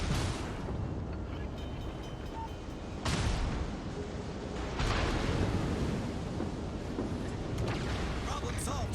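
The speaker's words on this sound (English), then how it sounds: "Concentrate fire on the torpedoes astern." Ship guns firing at torpedoes in World of Warships Legends, heard as heavy booming blasts over a constant roar of battle noise, with voices speaking over them.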